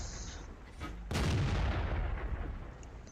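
A KV-1 heavy tank fires its cannon in World of Tanks: one loud close boom with a long rumbling decay, after a quiet stretch of game ambience.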